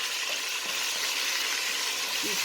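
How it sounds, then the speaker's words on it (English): Garlic sautés in a pan for beef asado, giving a steady, close, even sizzle throughout with a faint scrape near the end and no talking. "We saute it a little bit."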